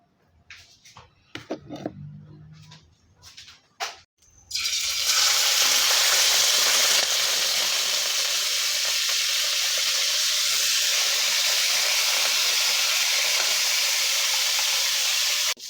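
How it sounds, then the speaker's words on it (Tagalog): Marinated pork hits a hot pan and erupts into a loud, continuous sizzle that holds steady, preceded by a few seconds of clinking and handling sounds. "Pipirito muna po natin yung minarinate po natin."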